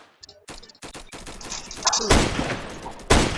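Sniper shots fire in a Roblox game, several sharp cracks in quick succession with loud bursts near the end, close and punchy over faint game noise.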